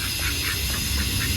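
A duck quacks loudly and close in a short burst of harsh, repeated calls as it is grabbed in a village yard.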